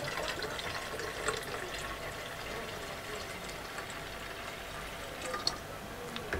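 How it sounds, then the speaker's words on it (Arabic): Water is poured into a container for a pesticide sprayer, giving a continuous soft splashing, filling sound at moderate distance with no talking. "حطينا فيه المية"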